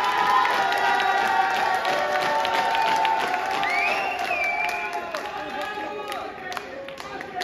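Crowd noise in a nightclub during a live entertainment show, with scattered clapping, cheers and whistles mixed with shouting voices, fairly distant and slowly fading toward the end.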